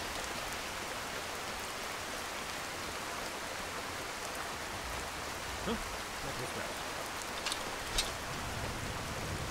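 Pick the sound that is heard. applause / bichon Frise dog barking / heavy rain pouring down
heavy rain pouring down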